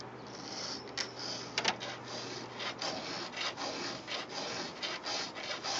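A chisel-tooth chainsaw chain is sharpened with a file, producing a steady run of short rasping strokes in an even rhythm, close and fairly quiet, with no talk.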